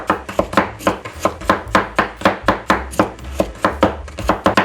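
Beef chopped into bite-size pieces with a knife on a cutting board, a steady run of sharp, close thuds at a quick, even pace with no talking.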